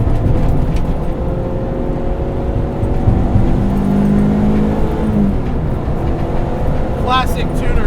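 Engine note of a Honda Civic EG hatchback with a K24 swap, on Megan Racing coilovers, heard from inside as steady drone rises in pitch through revs, with a voice talking over the cabin noise.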